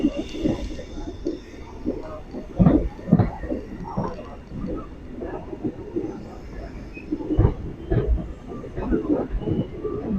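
A delayed train rumbles past Park Town railway station in Chennai with uneven, rhythmic clattering of wheels on rails, while people talk over the steady mechanical noise.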